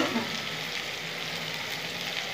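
A paste of ginger, garlic and chili sizzles steadily in a hot pan, a continuous close hiss of frying with faint stirring underneath and no voices.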